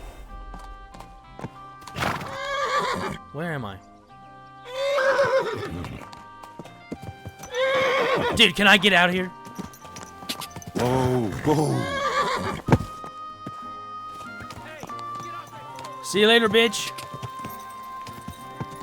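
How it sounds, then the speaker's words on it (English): A stolen horse in Kingdom Come Deliverance 2 whinnies several times and clip-clops along at a gallop, the neighs loud and close, while someone talks over it. "Bro, I'm stealing a horse right now."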